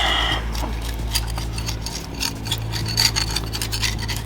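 Scraper rasping an old gasket off a Toyota Celica ST-185 cylinder head, close and moderately loud, with a run of short scratchy strokes and small metallic ticks.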